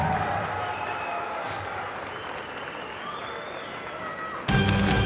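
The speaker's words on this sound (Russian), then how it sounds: "Ну что же, аплодисменты победителю." Loud audience applause fills the arena after a professional MMA fight between Ivan Shtyrkov and Kristian M'Pumbu, steady crowd clapping with cheering that swells sharply near the end.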